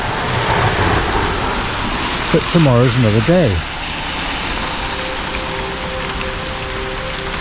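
Steady rain hisses during a thunderstorm on an outdoor walk in Maidenhead. Someone speaks briefly over the continuous downpour midway through.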